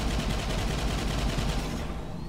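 Rapid autocannon fire from the RSM 7.4mm weapon in the video game Angels Fall First, a dense, loud, continuous stream of shots for about two seconds with no talking, easing slightly at the end.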